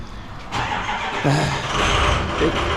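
A truck engine cranks and catches, then settles into a steady idling rumble, heard close by with a brief squeal as it starts.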